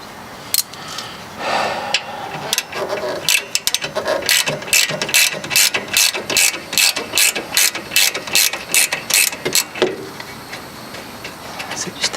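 A ratchet with a 12mm socket backs a bolt out on a Kia Forte, giving a loud, fast series of clicking pawl strokes in quick rhythmic bursts, close up.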